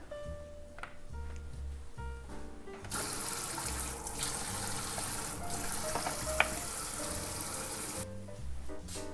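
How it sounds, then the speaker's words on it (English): Cold tap water runs steadily over squid in a sink for several seconds, a hissing splash that starts abruptly and stops, with soft background music before and after. "I want to rinse the squid in a running cold water"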